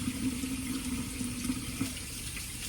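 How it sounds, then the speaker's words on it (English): Tap water runs steadily into a kitchen sink while hands are washed during baking, a constant close hiss with no talk over it. "Otherwise, I'll wash my hands again"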